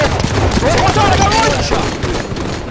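Rapid bursts of gunfire in a competitive 4v4 Breakout video game shooter match, loud and dense, mixed with excited player voices talking over it.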